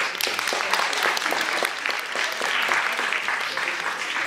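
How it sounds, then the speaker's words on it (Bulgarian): Steady applause fills a hall at a ceremony where certificates are handed out to students, many hands clapping continuously and fairly loud throughout. "Тя също заслужава много аплодисменти"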